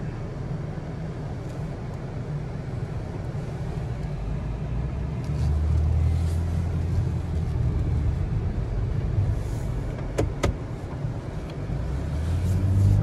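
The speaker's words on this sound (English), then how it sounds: "Great acceleration and smooth transmission." A 2011 Dodge Grand Caravan accelerates along a road, its engine drone swelling steadily as the minivan gains speed, with a brief clatter near the end.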